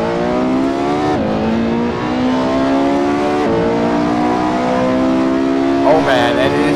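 A Porsche 918 engine in a racing video game revs and shifts continuously at high volume, pitch climbing and dropping between gear changes, while someone talks over it.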